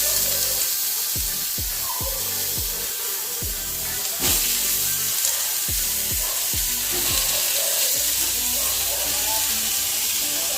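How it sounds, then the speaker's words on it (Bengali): Eggplant slices fry in hot oil with a steady, close sizzling hiss, punctuated by a string of short, low knocks and pops at irregular intervals throughout. "বেগুন ভাজাটা করে ওদের সবাইকে খেতে দিয়ে দেবো"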